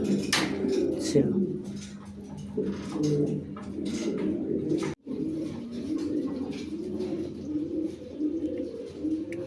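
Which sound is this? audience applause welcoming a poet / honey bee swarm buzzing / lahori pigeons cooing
lahori pigeons cooing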